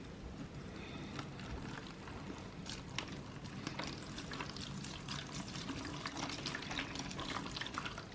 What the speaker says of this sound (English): a good glug of water.